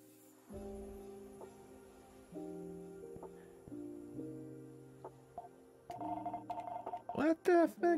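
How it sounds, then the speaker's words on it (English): A telephone rings indoors in a repeating sequence of stepped electronic tones, fairly quiet at first and then busier, with a voice breaking in near the end. "Phone's ringing, dude."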